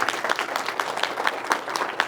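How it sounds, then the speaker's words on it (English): An audience at an indoor venue event applauds everyone involved, a dense, lively wash of many hands with sharper individual claps standing out, no speech over it. "let's give a big round of applause for everybody"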